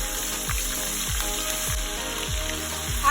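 Ginger garlic paste with salt and red chili powder fries in a pan over low heat, giving a loud, steady sizzle with soft repeated low thumps underneath.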